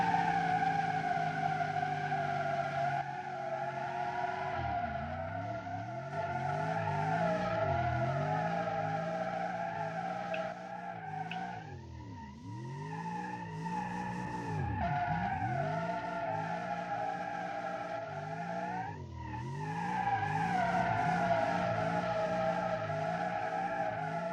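Tires skidding and squealing as a car does donuts in the BeamNG driving game, a continuous loud engine roar with sweeping pitch swings and tire screech running the whole time, no talk.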